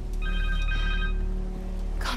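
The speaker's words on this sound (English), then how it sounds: "Connor's cell phone." A cell phone rings in Marvel's Spider-Man 2, a clear electronic ringtone of bright repeating tones over a low game hum, brief and fairly close.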